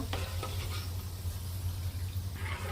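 Chomchom pitha frying in hot oil, heard as a steady close sizzle with a low constant hum underneath and a few faint clinks.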